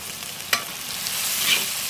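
Ginger and garlic paste frying in a hot pan with spices, a steady loud sizzle with a sharp scrape of stirring near the start, no voices.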